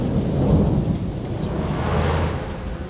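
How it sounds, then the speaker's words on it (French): Heavy rain pours down in a thunderstorm, a dense continuous roar with low rumbling thunder rolling underneath, loud and close throughout. "Eh ben, quelle pluie!"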